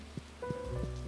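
Rain falls on a farm in a relaxing farming video game, a soft steady patter with a few brief plinks and tonal chimes over a low background hum, no voices.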